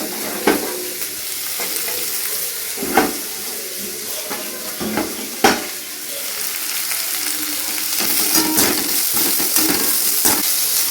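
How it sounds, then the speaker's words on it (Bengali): Vegetables for fried rice fry in a wok with a steady, close sizzle, broken by several sharp clatters and scrapes as the food is stirred; the frying grows louder and busier toward the end. "এখন ফ্রাইড রাইসের সবজি ভাজা হচ্ছে।"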